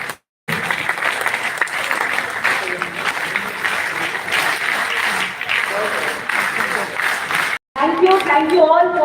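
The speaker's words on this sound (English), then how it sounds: "please once again give a huge round of applause for Ms." A hall audience at a national youth festival applauds a speaker being welcomed to the stage, a sustained, fairly loud wash of clapping with brief drops. A voice begins speaking right after it ends.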